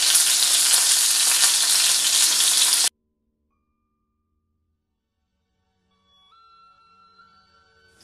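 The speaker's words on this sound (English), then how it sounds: "The fish is ready to be cooked in the sauce." Loud, steady sizzling of fish frying in hot oil for Szechuan spicy fish for about three seconds, then a sudden cut to near silence with faint clinks and scraping.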